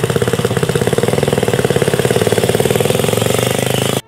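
Single-cylinder 250cc four-stroke Ducati road motorcycle engine running steadily, a loud, close, rapid pulsing thump with even rhythm throughout, ending abruptly.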